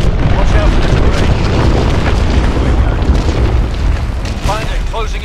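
Missiles striking targets in Call of Duty: Advanced Warfare during a campaign mission: loud, continuous rumbling blasts and booms form a dense roar, with sharper bursts near the end.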